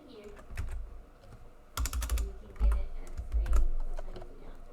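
Fingers tap on a computer keyboard in quiet, irregular clusters of close clicks, with a few faster flurries of keystrokes.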